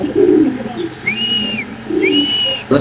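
Pigeons coo at a pigeon farm, two long rising-and-falling calls close by over a low murmur of further cooing birds, with no talk.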